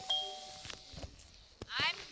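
A short doorbell chime rings in the video game SchoolBoy Runaway, faint and brief near the start, followed by a few soft clicks and a quick rising ding while someone talks quietly.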